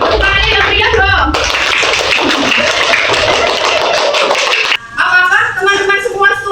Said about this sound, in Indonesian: Tepuk tangannya yang meriah dong.